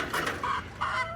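A hen clucks loudly in three close, rhythmic bursts, each squawk bright and insistent, with no talking.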